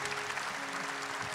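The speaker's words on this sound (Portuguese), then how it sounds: "Uma salva de palmas para cada uma delas." Audience applause during a live Catholic Divine Mercy rosary broadcast, a steady wash of clapping for about a second and a half with faint voices mixed in.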